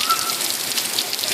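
Rain falling outdoors in cold weather while kids play in it, heard as a steady, soft hiss of drops on surfaces with no talk over it.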